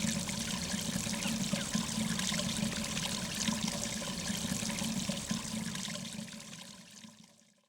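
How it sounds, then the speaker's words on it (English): Kitchen sink waste water flowing into a trapped gully at the foot of a waste pipe, a steady close rushing pour that holds for several seconds and then tapers off. "The kitchen sink waste fed directly into the trapped gully at the foot of the waste pipe."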